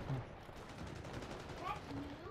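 Gunfire from the Call of Duty video game rings out in sharp bursts amid busy game noise, with a few quick shots spread across the moment under a dense, steady background.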